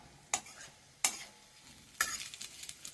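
Cumin, mustard seeds, coconut and garlic dropped into hot mustard and refined oil in a pan, giving three sharp sizzling bursts, the last one spitting and crackling on, close and fairly quiet.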